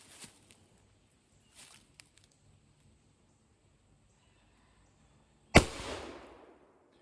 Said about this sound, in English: Let's shoot this Magnum, see if it doesn't break.